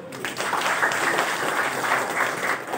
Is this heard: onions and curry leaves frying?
no